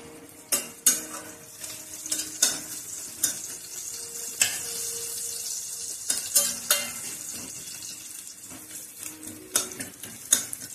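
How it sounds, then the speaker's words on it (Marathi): Garlic sautéing and being stirred in a hot pan, a steady sizzle broken by repeated sharp scrapes and clinks of a spoon against metal, close and alone without voices. "छान परतून घेऊया."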